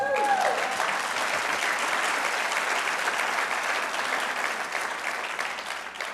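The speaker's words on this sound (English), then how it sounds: "Little applause there." Audience applause for Santiago Arana rises right after a brief voice and carries on as a steady wash of clapping from a crowd, gradually tapering off toward the end.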